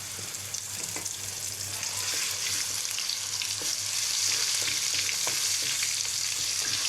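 Steady, loud sizzling of ginger-garlic paste frying in a hot pan, with faint stirring scrapes and no talking.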